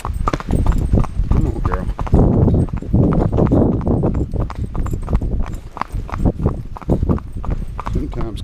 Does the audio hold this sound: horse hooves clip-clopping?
yes